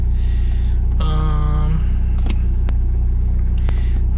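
A 1988 Jeep MJ engine idles steadily and close by with a low, even rumble, while a short electronic beep and a few sharp clicks sound over it.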